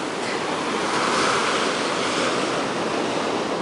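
Ocean waves break steadily on the beach at Playa Zipolite, a loud, continuous wash of surf with some wind rush and no voices.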